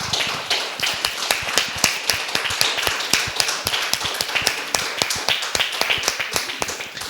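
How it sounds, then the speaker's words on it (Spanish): A church congregation applauds during a sermon, a steady run of dense, close hand claps with sharp individual slaps repeating across the whole stretch, no voices on top. "un aplauso a Él"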